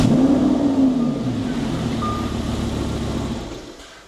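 A Lamborghini Huracan V10 idling with a two-cylinder misfire, giving a rough, uneven low engine rumble close by that fades gradually toward the end.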